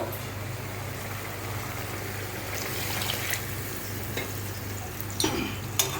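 A pan of small mola fish curry with salt, chili and spices fries in a soft, steady sizzle, heard close with occasional stirring scrapes and no voices.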